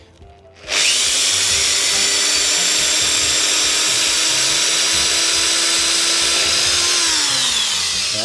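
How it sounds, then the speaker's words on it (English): A power drill bores through an unpainted plastic aftermarket fairing on a Kawasaki ZX6R, whining loud and steady from start to finish, with the pitch sagging slightly near the end. "Carefully without drilling into my fingers."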